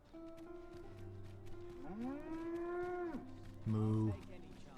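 In-game cattle from Dragon's Dogma 2 let out a long, drawn-out moo, followed by a shorter, louder lowing call, over a soft game backdrop.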